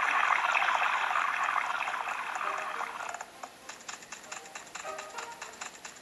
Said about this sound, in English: That's just the water fountain.